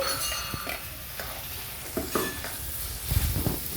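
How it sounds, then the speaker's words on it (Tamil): Potato gravy made with tomatoes and a mixer-ground paste is stirred in a pan, with steady scraping and stirring strokes over a constant sizzle and a few louder clunks near the end. "இதே ஊற்றியாச்சு ஊற்றி நல்லா கிண்டிக்கணும்"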